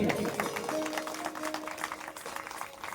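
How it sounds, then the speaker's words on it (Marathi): Audience applause at a Shiv Mahapuran religious gathering in Rimdoh, a steady, fairly soft patter of many hands clapping for about three seconds, with faint crowd murmur beneath. "यांच्यासाठी सर्वांनी टाळ्या तुमच्यासाठी"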